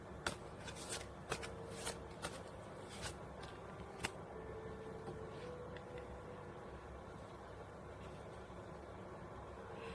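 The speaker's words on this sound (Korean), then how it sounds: "그럼 여러분들을 위한 조언 카드 한 장 뽑아보겠습니다." Tarot cards being shuffled and drawn, a quiet series of crisp riffling snaps and flicks clustered in the first few seconds, then softer card handling over a faint background hiss, no talk.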